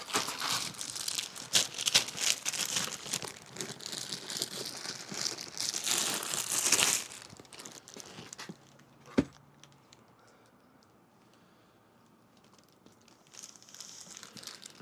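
Plastic packaging around a SharkRoad 4.4 megaphone slip-on exhaust for a Harley crinkles and rustles loudly and close up for about seven seconds, then one sharp knock sounds against quiet.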